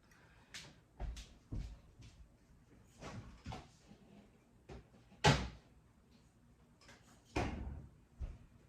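A refrigerator door is opened and closed in a home kitchen during baking, with repeated thumps and clunks, a louder slam near the middle and another near the end, no talking.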